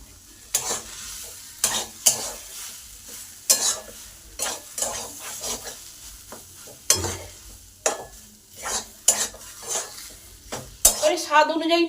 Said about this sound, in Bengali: এই সময় কন্টিনিউ নেড়ে যেতে হবে যাতে কড়াই না লেগে যায়